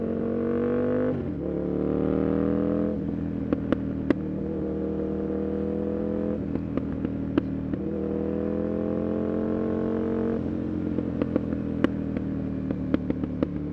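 Aprilia RSV 1000 R Factory motorcycle ridden hard through tight curves, including a first-gear corner; the engine revs up repeatedly with sharp gear changes, a loud, close buzzing roar with clattering ticks between pulls.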